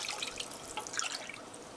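Cold water is poured into a pan of ketchup-fried cabbage roll sauce, a short, faint splashing trickle heard close up, with no talking.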